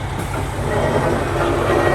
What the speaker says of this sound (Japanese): 列車は到着後、足早に扉を閉めます。